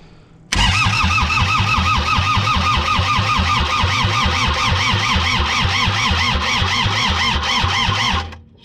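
A Thomas 173HL engine cranks over loudly with a rapid, regular rhythmic chug from the starter, coughing without fully catching, then the cranking stops abruptly near the end.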